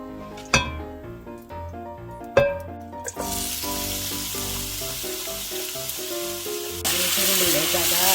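Sliced potatoes stir-fried in oil in a pan, opening with a few sharp clinks of a utensil before a loud, steady sizzle takes over and swells near the end.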